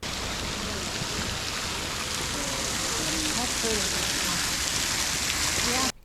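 Rain falling steadily in the Fendong scenic area among mountains and waterfalls, a constant dense hiss of drops that stays even and fairly loud throughout, with faint voices beneath it.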